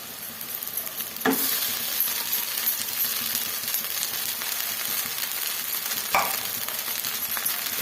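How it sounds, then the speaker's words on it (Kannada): Rice sizzles in hot ghee with fried onions for jeera rice as a spoon stirs it, giving a constant close frying hiss broken by two sharp scraping knocks against the pan. "ಇವಾಗ ರೈಸ್ನ ಮಿಕ್ಸ್ ಮಾಡ್ಕೊಳ್ಳೋಣ"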